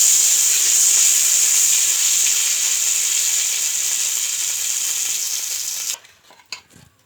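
Ghee sizzles in a kadai while a chicken biryani is being prepared, a loud steady hiss that cuts off abruptly near the end, followed by a few faint clinks.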